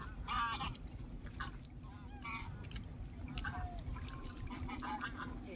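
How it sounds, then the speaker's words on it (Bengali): Geese honking repeatedly by a riverside, several nasal calls at moderate distance over a low rumbling background, with people's voices faintly mixed in. "এই যে বন্ধুরা দেখেন নদীর রাজহাঁস"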